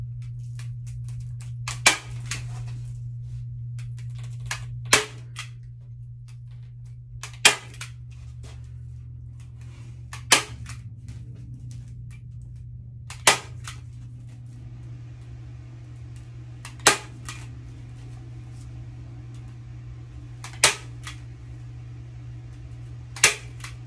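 Staples being driven to fasten foil-backed insulation panels behind a steam radiator cover, heard as about ten sharp, separate snaps spaced a few seconds apart over a steady low hum.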